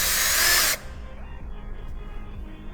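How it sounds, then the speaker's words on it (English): A power drill whirs loudly for under a second while twisting copper wire held under tension in a metal shop, then cuts off, leaving a quiet room hum. "So I'm going to hold some tension on my drill and twist my wire."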